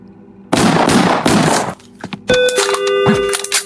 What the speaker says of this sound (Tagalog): So, ito yung baril natin.